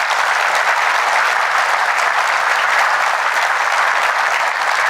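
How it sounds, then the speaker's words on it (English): Steady, full audience applause at a corporate opening keynote, loud and sustained from start to finish with no voices breaking through. "Let's give them all a big round of applause."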